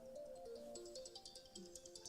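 A new phone rings with a faint melodic electronic ringtone, a short run of rising and falling tones followed by quick pulsing chimes, heard quietly across a room during a historical marker presentation.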